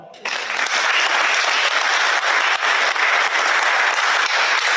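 Steady, dense applause fills a high school senior awards night hall, starting abruptly and holding at an even, loud level throughout as the audience claps for the award winners.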